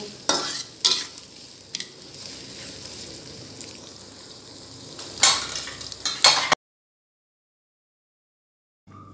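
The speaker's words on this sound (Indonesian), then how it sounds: "Bawang merah, bawang putih, dan cabenya digoreng jadi satu." Shallots, garlic and chilies fry together in a pan, with stirring scrapes and soft sizzling that rise in a few louder bursts before the sound cuts to silence near the end.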